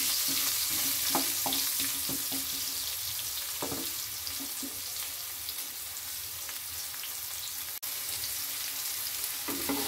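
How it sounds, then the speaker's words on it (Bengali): Potatoes fry in hot oil for a Bengali murighanto, giving a loud, continuous close sizzle broken by scattered pops and the scrape of stirring. "আলুগুলোকে হালকা লাল করে ভেজে নেব।"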